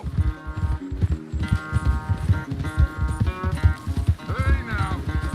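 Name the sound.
horse galloping in video game Red Dead Redemption 2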